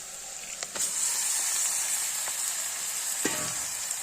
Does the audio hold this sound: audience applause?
no